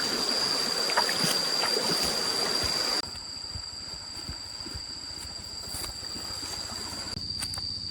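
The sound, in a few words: stream flowing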